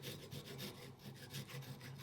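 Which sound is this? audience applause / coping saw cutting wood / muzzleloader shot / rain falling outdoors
coping saw cutting wood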